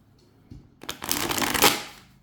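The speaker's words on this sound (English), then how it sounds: "I would show you how nice these are to shuffle." An oversized tarot deck is riffle-shuffled up close, a soft start building into a dense, crisp flurry of cards that peaks and then tapers off, with no talking.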